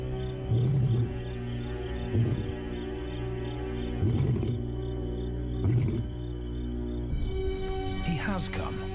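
A lion roars in the wild, in a series of deep, rhythmic grunting bursts that repeat at intervals over a steady low background. It is followed by a higher, more strained call near the end.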